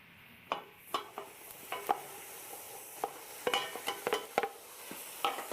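Onions frying for beef goulash in a preheated pot, stirred with a utensil: a steady soft sizzle under a series of irregular scraping and clinking strokes against the pot, close and moderately quiet, with no talking.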